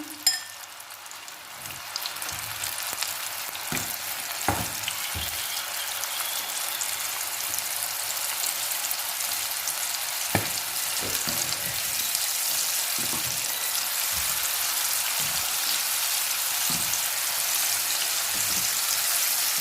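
Coated chickpeas deep-fry in hot oil for crispy chilli chana, giving a steady loud sizzle throughout with scattered pops and crackles, no voices over it.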